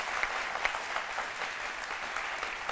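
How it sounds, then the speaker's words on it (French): Studio audience applause on a midday Ivorian television talk show, a continuous even roar of many hands clapping, fairly distant and diffuse, holding steady for nearly three seconds with no voices over it. "On applaudit bien fort Jessica Bamba"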